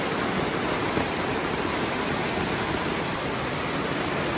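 Heavy rain and a fast, swollen river rushing near a farm: a dense, steady roar of water with no breaks, loud and constant, no voices.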